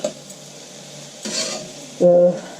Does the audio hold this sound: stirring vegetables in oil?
yes